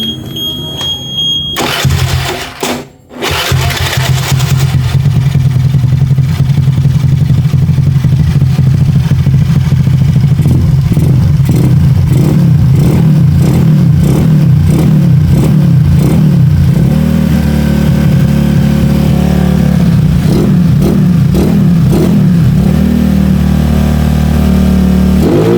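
A motorcycle fitted with a BRT ignition coil starts after a short pause, then idles loudly up close and is revved repeatedly in rhythmic bursts.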